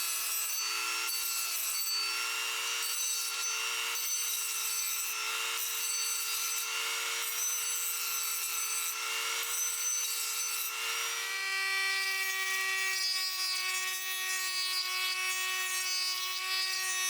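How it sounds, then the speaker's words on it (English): A coarse grit sanding drum grinds the steel blade of a vintage putty knife, steady and continuously abrasive with a bright tonal whine that shifts pitch partway through, loud and unbroken with no voices. "I'm going to try to do this with a coarse grit sanding drum."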